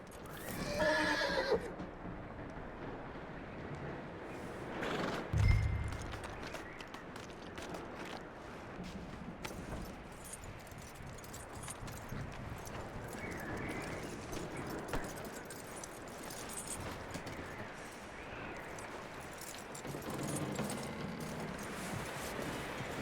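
A horse in Red Dead Redemption 2 whinnies and snorts while hooves clip-clop on the ground, the neigh rising near the start and the steady hoof steps continuing under ambient game sound.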